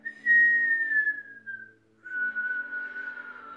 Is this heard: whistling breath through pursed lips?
yes